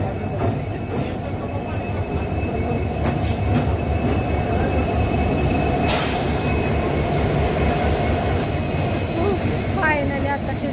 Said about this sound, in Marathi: फायनली आताशी ट्रेन आली आणि आम्ही जाणार आहे.